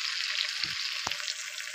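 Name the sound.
fried fish added to the pan, sizzling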